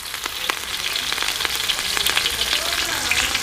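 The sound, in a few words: cumin seeds crackling in hot oil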